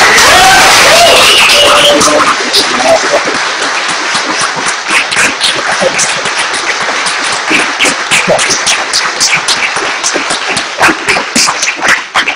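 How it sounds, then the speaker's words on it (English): A large crowd applauds loudly and continuously, with dense clapping and scattered cheers that taper slightly toward the end. "that applause can't go on long enough"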